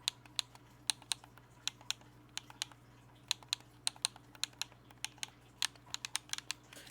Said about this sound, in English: It's more of a button click, but it does have that feeling of a mouse click.